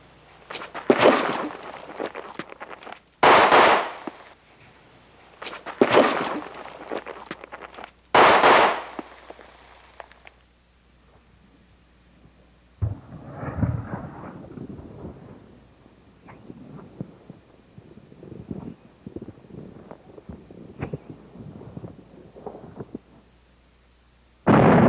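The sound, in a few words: live-fire pistol shots at contact distance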